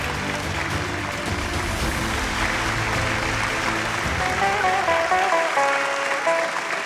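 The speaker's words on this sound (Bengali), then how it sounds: "একটা জোরে হাততালি স্বপ্নময় বাবুর জন্য" Applause from the audience at the Zee 24 Ghanta Ananya Samman award ceremony, a dense, steady clapping from a large crowd that continues loud throughout, with music playing beneath it.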